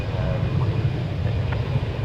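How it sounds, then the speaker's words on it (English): An Airbus A319 on flight 3024 from Eagle, Colorado touches down on the runway at DFW Airport, a steady low engine roar heard from a distance beneath a voice speaking. "Flight 3024 from Eagle, Colorado in Airbus A319. Just touching down."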